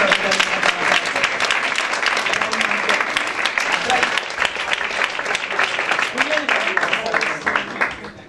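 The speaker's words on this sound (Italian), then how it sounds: "un applauso a Marco Sarro" Dense audience applause fills a cartoon cover band gathering, sustained and steady throughout with many overlapping claps and faint voices mixed in.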